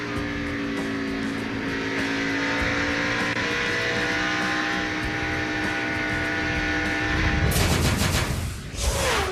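Race trucks roar at speed during a 2003 NASCAR Craftsman Truck Series race, a sustained loud engine drone that ends in a series of harsh crashing impacts near the end.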